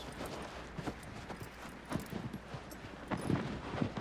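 Hoofbeats of Agro, the horse in Shadow of the Colossus, crossing a wide beach: repeated soft clip-clops at a walking-to-trotting pace over steady ambient noise, a few stronger thumps toward the end.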